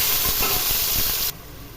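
Onion paste hits hot oil with green chillies in a pan for fish curry, giving a loud, close, sizzling hiss that cuts off abruptly and leaves a quieter background.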